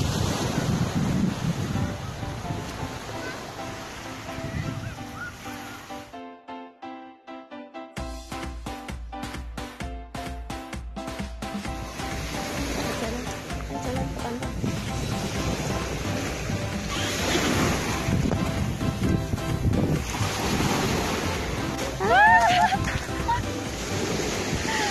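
Surf washes steadily onto a natural beach in Tegal, Indonesia, under heavy wind buffeting the microphone, with a brief dropout partway through and faint voices.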